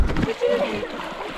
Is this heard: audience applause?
no